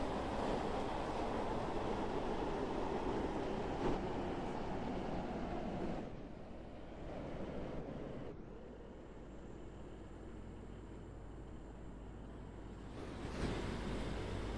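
A Class 156/9 double unit in the Stepford Connect game runs from Edgemead to Rayleigh Bay with a steady, loud rolling rumble. It drops quieter around the middle as if slowing, then swells again near the end, with no talk.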